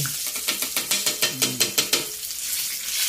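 Chicken frying in a pan over high heat while the pieces are stirred, with steady sizzling and a regular run of scraping, clattering strokes near the mic.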